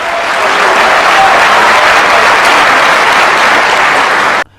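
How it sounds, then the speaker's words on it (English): A Muslim audience at a Zakir Naik debate cheers and applauds, a loud, dense, steady wash of clapping and shouts that fills the hall for about four seconds before cutting off abruptly. "Muslims cheer when Zakir Naik quotes the book of John, chapter 5, verse 30."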